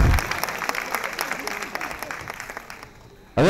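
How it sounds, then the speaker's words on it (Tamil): An audience at a humorous Tamil pattimandram debate in Dubai claps for about three seconds, the clapping thinning and fading out before a voice breaks in at the end. "கைத்தட்டின 53 பேருக்கு நன்றி."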